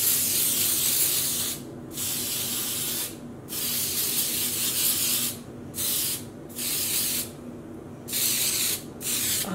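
Wilton's Color Mist spray food coloring hisses onto yarn being dyed, in five or six close, sustained spray bursts separated by short pauses, with no talk.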